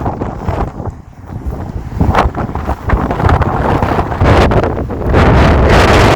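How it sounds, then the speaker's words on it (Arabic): Loud, gusty wind on an open desert farm in Wadi El Natrun, Egypt, buffets the microphone, roaring and rumbling in surges that build stronger toward the end. "معلش جو هوا"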